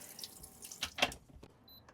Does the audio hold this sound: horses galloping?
no